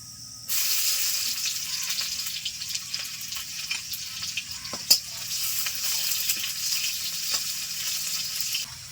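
Chopped medium onion hitting hot oil with black cumin and frying, a steady broadband sizzle that starts abruptly and keeps hissing, with an occasional stir or clink, close and fairly loud.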